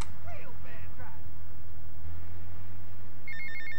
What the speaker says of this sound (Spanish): Mr. Black nos va a llamar para darnos ya su última misión en el juego.